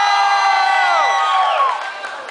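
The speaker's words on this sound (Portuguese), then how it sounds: "Quem acha, grita!" Crowd in a nightclub shouting and whooping together in response to a host, a loud sustained roar of voices with high cheers that fades toward the end.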